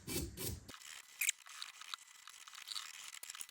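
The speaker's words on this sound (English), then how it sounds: "I'm probably going to get a wire brush on that and clean it up" Wire brush scrubbing verdigris from a metal fitting, a steady, fairly close scratchy rasping that follows a brief louder opening burst and then keeps going at moderate volume with small irregular strokes.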